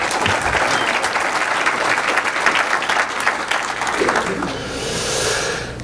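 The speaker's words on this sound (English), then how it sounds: "We might as well give them a round of applause," Audience applause at a Toronto certification update event, sustained and fairly loud for about four seconds, then fading into softer room noise and a faint voice.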